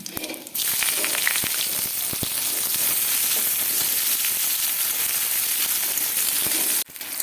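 Dried red chillies and cumin seeds crackle and sizzle in hot oil as a tempering, a steady close frying hiss with a few small pops and a brief stir.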